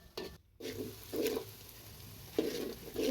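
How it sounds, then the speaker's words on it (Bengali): Sliced onions are stirred and fried in hot oil until golden for beef biryani, with a soft sizzle underneath and several brief scraping stirs of a spatula against the pan coming close and fairly loud. "পেঁয়াজগুলো আমরা বেরেস্তা করব।"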